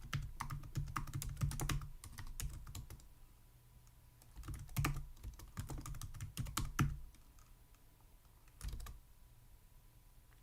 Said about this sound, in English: I'm typing around a microphone.